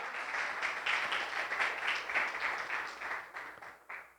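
Church congregation claps for the Lord Jesus during a service, a fairly soft, steady wash of many hands that swells and then thins out toward the end.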